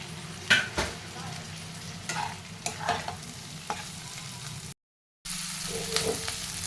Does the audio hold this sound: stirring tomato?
yes